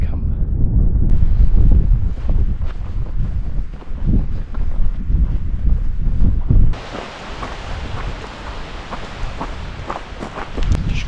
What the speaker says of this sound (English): Just going down this mad windy path, I think.